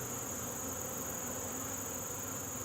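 Honey bees buzz in a steady, dense hum while a nuc is installed into a hive, the swarm close and continuous with no pauses.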